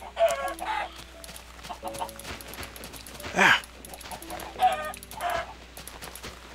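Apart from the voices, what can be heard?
chickens clucking in the video game Minecraft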